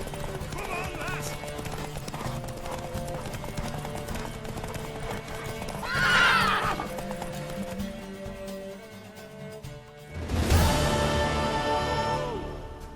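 A horse gallops with steady, rapid hoofbeats during a race in The Witcher 3, then a loud neigh bursts out near the end over the continuing hoof rhythm and ambient game sound.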